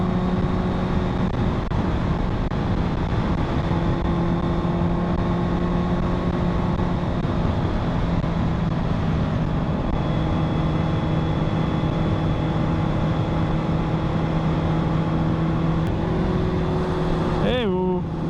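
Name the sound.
Honda inline-4 engine revving at high power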